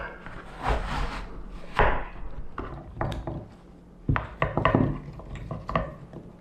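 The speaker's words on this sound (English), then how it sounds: "So first of all, I will just peel it. I will core it." Knife peeling and coring an apple for homemade Christmas pudding, a series of close, irregular scraping and cutting strokes with short pauses between them, and no talk.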